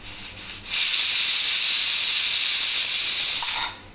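A loud, sustained hissing whistle of a pressure cooker cooking chicken with garlic, salt and water, releasing steam for about three seconds before cutting off, close by.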